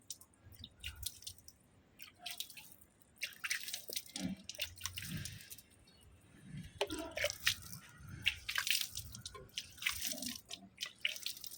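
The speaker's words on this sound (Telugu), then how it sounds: "సో రీపాటింగ్ చేసిన వెంటనే మనం వాటర్ అనేది చల్లుకోవాలి" Water sprinkled over freshly repotted potted plants, soft irregular drips and splashes on soil and leaves, close by and fairly quiet, with no talking.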